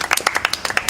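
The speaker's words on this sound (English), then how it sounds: "Give him a clap." A small audience claps for a correct answer at a children's quiz show, about a dozen sharp distinct claps in quick succession, close and fairly loud, lasting only a second.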